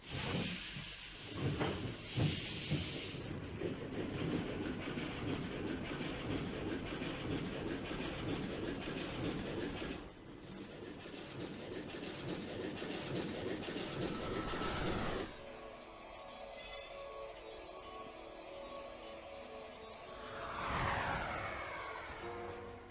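A ghost train collides with a real train in the Dragon Quest X video game: a steady, hissing rumble of rolling rail cars and clatter, which shifts abruptly partway through into a rougher, ringing mechanical texture.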